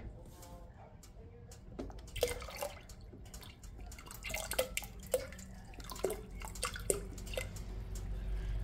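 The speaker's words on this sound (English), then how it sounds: "I'm going to add some reduced sodium chicken broth." Reduced-sodium chicken broth pours and splashes into a pot of water in a soft, trickling stream with scattered drips, fairly quiet and close.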